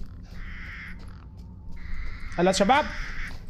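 Crows caw in the Resident Evil Village video game: a few harsh, close calls burst out near the end, while someone speaks briefly and quiet in-game ambience hums underneath.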